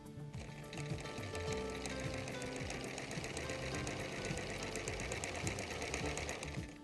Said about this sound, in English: We'll be stitching from this intersection to this intersection.